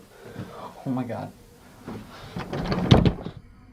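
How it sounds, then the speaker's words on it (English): A basement door slams hard with a heavy thump near the end, preceded by a few smaller knocks and rattles, while people talk in the background. "That final door slam is incredibly forceful, occurring exactly after Julian issues a verbal command."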